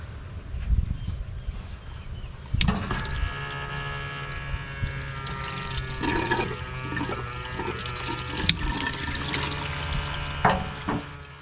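Coolant spilling and trickling from disconnected truck radiator hoses during a cab removal, a steady splashing pour with metallic clinks and knocks from tools and parts, close by and with no voices.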